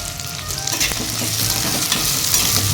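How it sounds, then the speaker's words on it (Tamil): Onions sauté in oil for a fish curry, giving a steady, close sizzle with the scrape of stirring in the pan and no talking. "இதையும் நல்லா வதக்கிக்கோங்க. அப்போ தான் சீக்கிரம் வந்து வெங்காயம் வதங்கும்."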